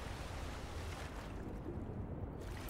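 Rushing water currents in the Skyrim video game, heard as a steady, loud broadband wash of flowing water that continues without a break and with no talking.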